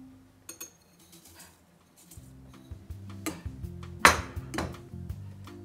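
Sugar poured in batches into eggs being beaten in a bowl for an air-fryer lemon pound cake, with metal whisk clinks and taps against the bowl, quiet at first and then busier, with one sharp louder clink near the middle.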